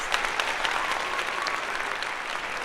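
A short burst of hand clapping from a small group, steady and fairly close, with no talking over it.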